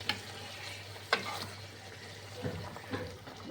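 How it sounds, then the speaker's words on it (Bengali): Mutton bhuna sizzling in a pan as water is added for simmering, a low steady frying hiss with a few sharp crackling pops and soft stirring, quiet and close with no talk. "এবার আমি এগুলো ভালোভাবে সেদ্ধ হওয়ার জন্যে জল দিয়ে দিচ্ছি।"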